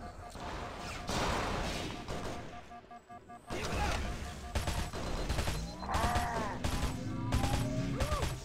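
Gunfire in the Halo SPV3.3 video game: dense bursts of rapid shots, cracks and crashing impacts that rise and fall over several seconds, with a brief lull in the middle.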